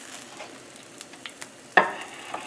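Chicken thighs crisp in a hot pan with a quiet, steady sizzle, broken by a few soft pops and one sharper crackle near the end; no voices.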